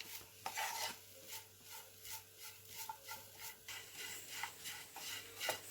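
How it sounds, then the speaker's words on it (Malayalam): Grated coconut dry-roasts in a pan, with a rhythmic scraping stir of a spoon against the metal and a faint sizzle, each stroke repeating about twice a second at close range. "ഇത് നമുക്ക് നന്നായിട്ടൊന്ന് വറുത്തെടുക്കാം."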